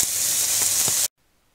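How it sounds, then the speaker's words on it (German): Carrots frying in a pan give a steady, bright sizzle for about a second before cutting off abruptly into silence. "Als nächstes brate ich Karotten rein."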